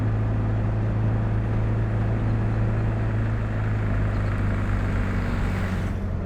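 A small microcar, a voiture sans permis, drives along with a steady low engine drone and road rumble, a constant close hum with no talk over it.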